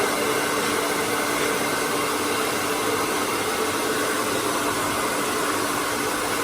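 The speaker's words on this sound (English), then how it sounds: "Just really concentrating on blow drying around the head shape." A hair dryer blows in a constant, loud, breathy whoosh while hair is blow-dried with a round brush, steady throughout with no talking.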